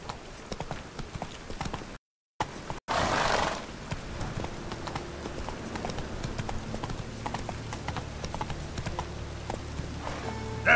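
A horse gallops in The Witcher 3, its rhythmic clip-clop hoofbeats running steadily through the scene with a brief neigh, set against game ambience and a short dropout near the start.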